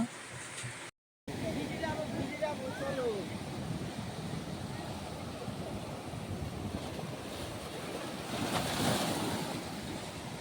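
Sea waves wash on both sides of the road to the Mohona estuary bridge in the rain. The surf roars as a constant, broad wash mixed with wind buffeting the microphone, and voices are faint beneath it.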